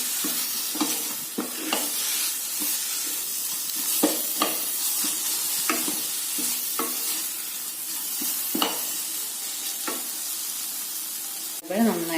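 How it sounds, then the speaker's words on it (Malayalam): Chopped tomatoes sauté in hot oil for chicken curry with a continuous sizzle, while a spoon scrapes and stirs through them in irregular clacks, ending in a louder clatter; no talking. "നന്നായിട്ട് ഇളക്കാം. നന്നായിട്ട് വഴറ്റിയെടുക്കുക."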